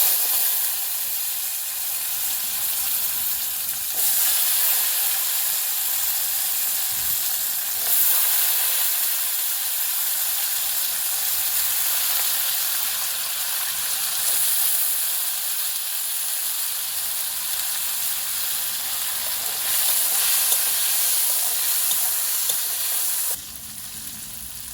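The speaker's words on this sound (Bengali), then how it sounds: "কাঁঠালের বীজগুলো আমি এই তেলে হালকা করে ভেজে নেব।" Jackfruit seeds fry lightly in a pan of leftover prawn oil for a village-style dish, giving a steady, close, continuous sizzle with a few brief stirring shifts and no voices.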